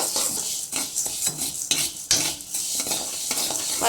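Black urad dal and chana dal dry roasting in a pan, stirred with a utensil: repeated scraping strokes and rattling lentils with a light sizzle, close and fairly loud, no voices.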